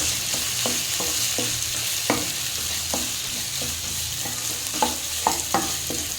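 Chow chow being sautéed with grated coconut in oil in a pan, a steady sizzle under repeated scraping strokes of a spatula at an irregular rhythm, close and moderately loud, no voices.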